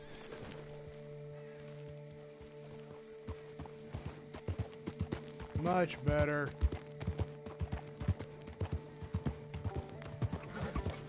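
A gray horse in the Red Dead Redemption 2 Online game clip-clops at a walk, with irregular hoof thuds, a brief whinny midway and someone speaking briefly over it.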